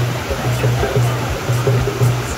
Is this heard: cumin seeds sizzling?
no